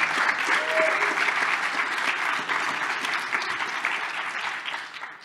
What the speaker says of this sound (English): Let's get a round of applause for the fact that Cilium has graduated.